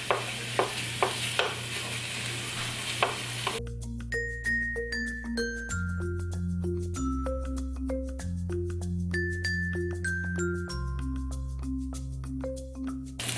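Ground pork browns in a pan, with a steady close sizzle and sharp stirring taps for a few seconds before music takes over.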